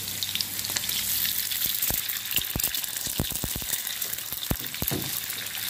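Eggs and vegetables frying in hot oil for fried rice give off a steady, loud sizzle, with sharp crackles and spatters scattered across it and no voices.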